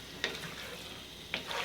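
Chicken cooking in a pan on the stove over low to medium heat, giving a steady faint sizzle and bubble with two brief louder stirring scrapes, no voices.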